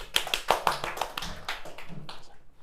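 A few sharp claps from a small high school chemistry class, crisp and uneven at first, then thinning into a softer, scattered patter that fades away.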